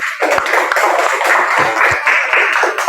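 Students in an Islamic religious education classroom clap together, a loud close burst of quick, slightly uneven hand claps lasting a few seconds.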